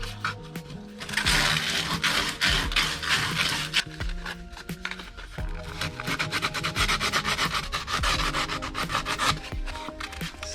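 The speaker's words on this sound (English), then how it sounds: "Sand it a little bit on the inside of the clamp as well." Sandpaper rubbed by hand inside a Gardiner pole clamp, a close, steady, rhythmic scratchy rasping with quick back-and-forth strokes, loud and continuous throughout.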